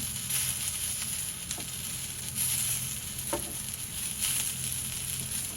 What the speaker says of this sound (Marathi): आता यामध्ये आपण जिरं घालूया